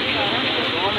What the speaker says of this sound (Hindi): फ्राई चिप्स बन रही है ये